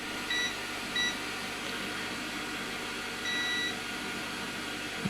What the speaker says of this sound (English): let's check it with the multimeter and continuity again